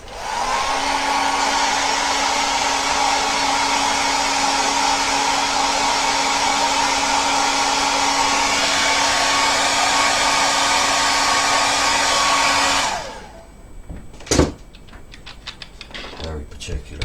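A hair dryer blows steadily and loudly over wet watercolour paint on a gel press print for about thirteen seconds, then shuts off, followed by a few sharp handling clicks and taps.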